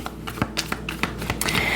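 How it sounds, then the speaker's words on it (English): Tarot cards are shuffled and placed by hand in a quick series of sharp papery taps and flicks, close and distinct with short gaps between them. "I kind of like shuffling and placing the cards before I start explaining"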